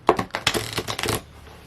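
A deck of playing cards being shuffled, a clumsy riffle giving a quick burst of crisp flapping clicks for about a second, then settling into quiet room tone.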